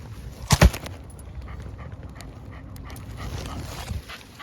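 A dog named Noodle gives a couple of loud, close breathy bursts early on, then quieter ongoing panting over an outdoor background.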